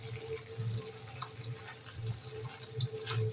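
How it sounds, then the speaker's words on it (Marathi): Crabs being washed under a running kitchen tap, a soft steady splash of water with small gurgles and knocks of handling, fairly faint and alone. "हे खेकडे आहेत ना, ते स्वच्छ धुवून साफ करून व्यवस्थित 3-4 वेळा तरी धुवून घ्यायचे"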